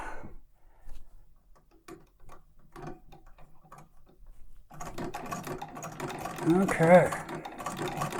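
A Franklin treadle sewing machine sews a top stitch, its needle clicking faintly at first. It then builds into a loud, continuous rattling, mechanical run, and a voice speaks briefly near the start.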